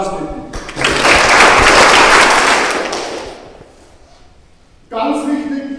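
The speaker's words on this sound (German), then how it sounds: "auch einen herzlichen Applaus bitten" Guests at the opening of an art exhibition at an art academy in Bad Reichenhall burst into loud applause that swells for a couple of seconds, then fades out before a speaker resumes talking.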